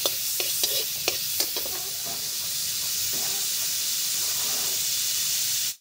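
Margarine melting and sizzling in a pan before onions go in for a creamy carbonara, a steady close hiss with a few sharp clinks of a utensil near the start, no talking, ending abruptly.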